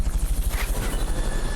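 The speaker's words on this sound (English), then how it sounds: "Fulton recovery helicopter is complete." A rescue helicopter in the video game Metal Gear Solid Peace Walker, its rotor thumping in a fast steady rhythm over a dense roar, close and loud throughout with no talk.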